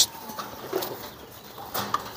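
A young pigeon calling during a pairing attempt, with a few short, soft coos and squeaky notes spaced irregularly, near and fairly quiet, with light handling noises around them and no speech.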